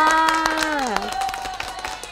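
Scattered handclaps, close and fairly light, sound during an English lesson while a teacher keeps talking over them.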